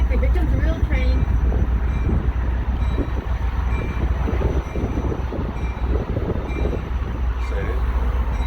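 An Amtrak locomotive rolls in to couple with rail cars at the California State Railroad Museum, giving a loud, steady low rumble with grinding and clanking throughout, while people talk excitedly nearby.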